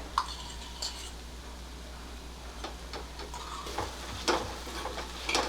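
Ghee sizzling in a pan as pieces of sweet potato fry in it, a steady soft crackle with scattered sharper pops and stirring clicks throughout, close and moderately quiet, with no talking.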